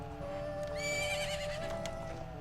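A horse whinnies in the Ocarina of Time video game, one bright high neigh rising over steady background music at a ranch, fairly close and clear.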